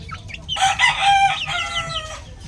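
A native rooster crows at a small poultry farm, one loud drawn-out cock-a-doodle-doo close by, with no talking over it.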